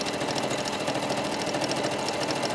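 A sewing machine runs continuously while stitching a jacket sleeve straight, a fast, even mechanical whirr and rattle up close and steady throughout, with no talking.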